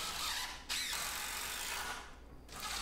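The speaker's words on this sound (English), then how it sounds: "So now I'm just going to put one screw on one side" A screw is driven into the wooden boards of a homemade pull-up bar, giving a steady ratcheting, whirring mechanical run for about two seconds that breaks off briefly near the start and pauses again before resuming at the end.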